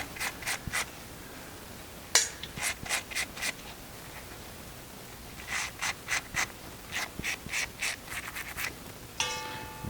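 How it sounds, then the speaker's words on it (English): Brush scrubbing the threads of a stainless steel gland nut from a 7500QT/7700QT spray gun, heard as quick repeated rubbing strokes in short clustered bursts with brief pauses. "So again, just clean the threads on the gland nut."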